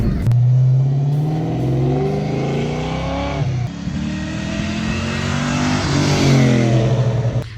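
A Ford Fox Body notchback Mustang SSP engine runs loud and close, climbing in repeated revving sweeps over a steady idle with no pauses.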